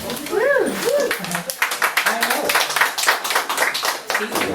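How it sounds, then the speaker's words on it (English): A writing class claps at an open mic event, with brisk, uneven applause running under lively talk from a host, plus some whooping voices near the start. "The writing class are giving you all a round of applause."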